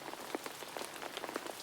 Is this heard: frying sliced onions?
no